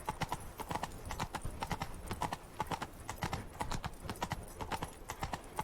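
Horse hooves clip-clop in a quick, even trot on a palace sidewalk in The Witcher 3: Blood and Wine, with each hoofbeat crisp and close, keeping a steady rhythm throughout with no voices.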